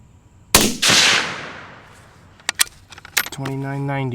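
A single sharp rifle shot from a 6mm Dasher cracks loudly close by and decays quickly. A few clicks and clatters follow, and a voice starts near the end.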